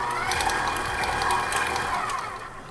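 An electric stand mixer whirs steadily while beating carrot cake batter, with a close, even motor drone and faint rhythmic clicks from the beater, and no talking.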